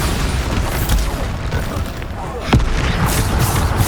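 Bombarda spell explosions in the Hogwarts Legacy video game: a dense run of loud, booming blasts and crackling impacts, with a sharp hit near the middle, inside a chaotic combat soundscape.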